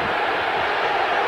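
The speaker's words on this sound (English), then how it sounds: "Listen to this crowd at the Delta Center." A basketball crowd roars inside Utah's Delta Center during a game against Chicago, a steady, loud and dense wall of noise from the whole arena with no pauses.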